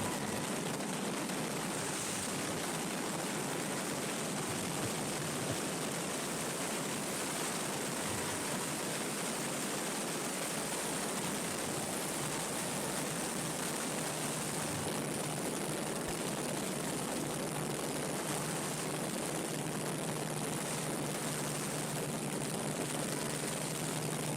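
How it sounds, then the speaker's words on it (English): Mitsubishi A6M Zero propeller aircraft beginning its takeoff roll, a steady broadband roar of engine and airscrew that holds loud and unbroken throughout, with no voices. "So the Zero's just starting its takeoff roll."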